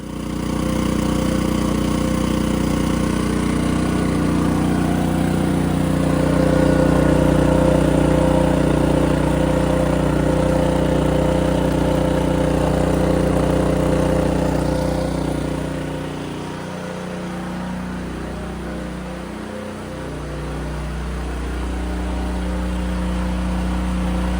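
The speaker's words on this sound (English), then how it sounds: "The generator's charging at about 2 miles an hour, best case scenario." A portable gas generator runs steadily while charging a Rivian electric vehicle off-grid, a continuous mid-pitched engine drone close by that dips briefly in load near the end before settling again.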